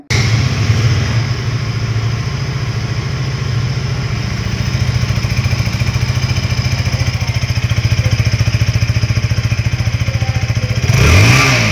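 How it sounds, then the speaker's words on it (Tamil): A 2025 KTM Duke 160 motorcycle idles loudly and close at a steady throbbing pace through its exhaust, then gets a short rising rev at the end. "ஸோ எக்ஸாஸ்ட் நோட் எப்படி இருக்குதுன்னு சொல்லி பார்ப்போங்க."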